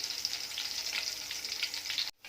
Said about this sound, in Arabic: هنحمر بقى التومه